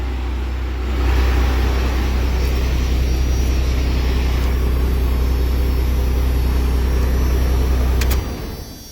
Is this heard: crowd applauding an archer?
no